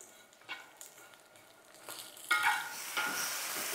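Green peas stir-fried with salt, sugar and asafoetida give a soft sizzle broken by irregular spatula scrapes and clinks against the pan, swelling into a louder, fuller frying hiss partway through.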